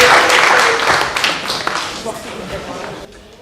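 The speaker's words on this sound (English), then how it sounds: "One more massive round of applause for Mr. and Mrs. McKellar." Wedding guests give the newlyweds a burst of loud applause, dense clapping that gradually thins and fades over a few seconds.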